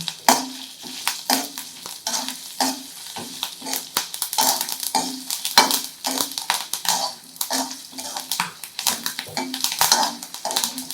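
Coconut and dried red chillies being roasted together in a hot pan for a karunai kizhangu kuzhambu, with steady scraping and stirring strokes against the pan and a faint crackle, no voices.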